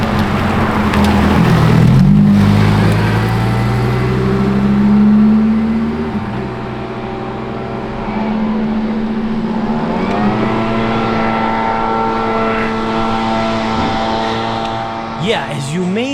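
A Lamborghini Revuelto V12 on the road gives a loud, sustained engine note that rises and falls in pitch as the revs climb and drop.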